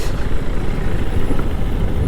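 Heavy road traffic near bridge construction at Pallipalayam, a steady dense rumble of trucks, buses and cars, loud and close with constant engine drone and no speech.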